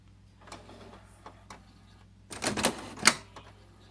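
Canon Maxify printer switching on, its mechanism giving a few faint ticks followed by a short burst of clattering, whirring movement and a final sharp clack, all quiet and close by.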